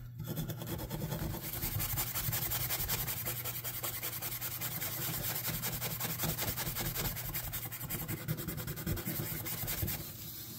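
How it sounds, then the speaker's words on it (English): Steady abrasive rubbing of a Scotch-Brite pad over the rusty blade of a vintage Kutmaster knife, a continuous close scrubbing texture that runs for the whole stretch with no talking. "So I first thought I'd just go over with some Scotch-Brite."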